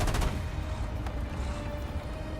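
SIDAM quad anti-aircraft guns fire in a video game: a quick rapid burst of cannon shots opens loudly, then fades into a steady rumbling background with one more faint report.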